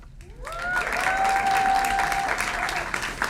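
Applause from a modest audience at a university graduation ceremony swells quickly and continues steadily, with a sustained tone sounding faintly underneath.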